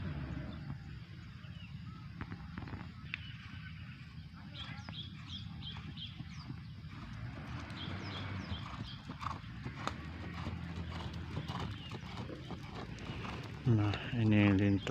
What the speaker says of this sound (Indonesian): sepertinya satu ekor kuda sedang berlatih